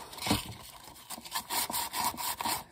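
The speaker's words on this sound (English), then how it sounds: "the sandpaper just goes right along the edge and takes it off" Sandpaper rubbed along the edge of a paper panel for a stacked envelope folio, giving a series of close, raspy scraping strokes in an uneven rhythm with no talking.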